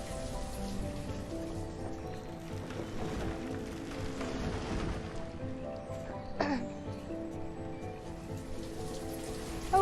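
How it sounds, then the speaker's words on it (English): Rain falling in the village-building game Banished, a soft steady patter under quiet ambient game sound and music, with a brief brighter tone partway through. "Oh, it started raining again."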